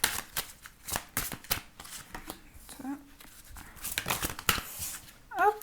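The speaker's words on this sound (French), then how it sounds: "Hop, les cartes volent." Tarot cards are shuffled briskly by hand at close range, producing rapid riffling and slapping bursts, with a few flicks of cards springing loose, while a voice speaks intermittently alongside.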